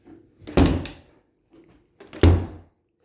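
A freshly repaired door in a rental house under renovation, opened and shut twice with solid thunks about a second and a half apart, close and fairly loud with no talk.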